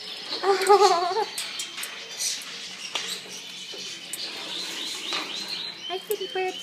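A pet bird chirps close by: a quick run of bright, warbling chirps near the start, then softer calls over quiet background noise, with a person's voice heard faintly.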